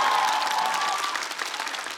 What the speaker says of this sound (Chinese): 场下掌声雷动，就像现在一样